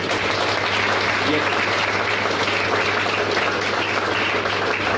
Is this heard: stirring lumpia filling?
no